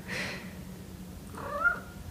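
A house cat gives two short meows, one at the start and another near the end, moderately close in a quiet indoor room with low background hum.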